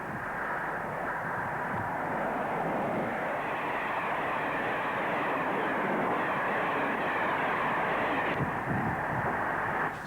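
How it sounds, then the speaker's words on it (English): British Rail Class 85 electric locomotive hauling a train at South Kenton, a sustained loud rushing rumble of the passing train with steady wheel and motor noise throughout. "The Class 85 electric was at South Kenton."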